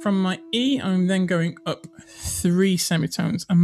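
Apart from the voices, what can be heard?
None of the usual background noises is heard.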